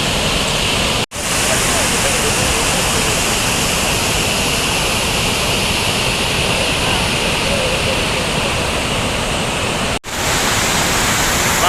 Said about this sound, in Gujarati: આ શેત્રુંજી નદીના 20 દરવાજા ખોલેલા છે